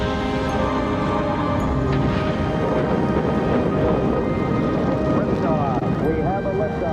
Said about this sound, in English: We have a liftoff, 32 minutes past the hour. Liftoff on Apollo 11.